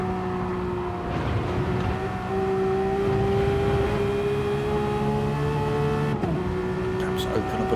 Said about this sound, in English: Bumper to bumper action here with these Porsches